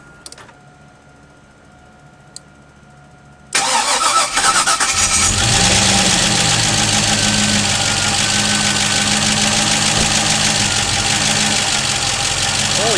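An LS V8 engine cranks and fires after a quiet stretch, then settles into a loud, steady run with a broad rumbling roar that fills the rest of the clip.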